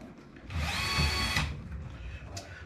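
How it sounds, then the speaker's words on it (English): A power drill runs with a 5mm bit, boring holes through a Shakespeare breakaway plastic tackle box; the steady whine rises for about a second, then stops, and faint handling noises follow. "and then we'll go to a 5mm drill bit."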